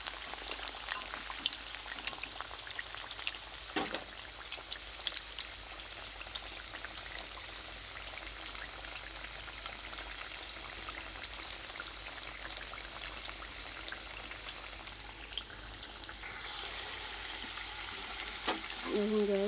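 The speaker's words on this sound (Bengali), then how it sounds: "এখানে আলু ভাজা চলছে।" Potatoes frying in hot oil for biryani give a steady, close sizzle and crackle that runs unbroken throughout, with a few sharper spits and pops.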